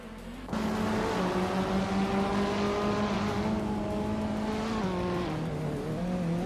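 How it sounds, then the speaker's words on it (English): A 2010 SEAT Leon TDI diesel hatchback races in a video game, its engine note swelling suddenly to a loud sustained drone that holds steady and dips slightly near the end, with no talk. "the race kicks off at Central, and leading the pack is Kyroscope in a classic 2010 seat, Leon TDI."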